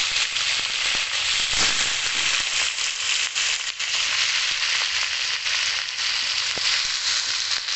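Prawns sizzle loudly in a hot pan with browned onions, a steady crackling hiss running unbroken throughout, with occasional sharper pops and spatters.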